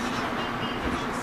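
A New Mexico Rail Runner commuter train pulls away from a station, its steady loud rumble and rolling noise filling the cabin from inside the carriage.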